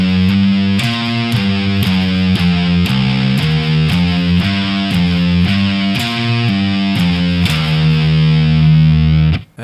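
A distorted electric guitar plays a groovy pentatonic stoner rock riff, a repeating pattern of thick, chugging notes with steady rhythm, loud and alone, ending on a long held note that cuts off.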